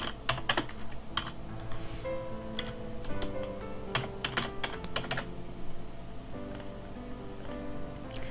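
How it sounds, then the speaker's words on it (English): Typing on a computer keyboard, sharp close key clicks coming in quick irregular bursts with brief pauses between, over a low background hum. "so let's type that in."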